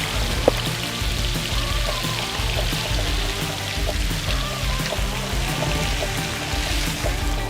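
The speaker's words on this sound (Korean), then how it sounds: "이 정도 넣으니까 약간 시냇물 소리가 난다" Liquid poured steadily into a dish makes a continuous loud rushing, splashing flow like a stream or small waterfall, unbroken from start to finish, with no voices.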